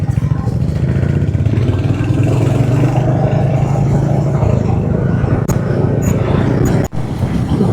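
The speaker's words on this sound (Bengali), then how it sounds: "উড়িষ্যার মধ্যে দিয়ে একটা হাইওয়ের মধ্যে দিয়ে এখন রাইড করছি" A motor vehicle cruising along a highway through Odisha at night, its steady engine drone and road rumble holding loud and continuous, with a few brief sharper noises near the end.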